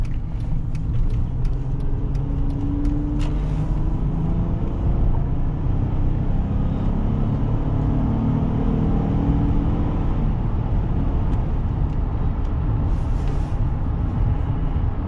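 2010 Honda Pilot EXL cruising on the freeway at about 75 mph, a steady loud roar of road and wind noise inside the cabin with no talking.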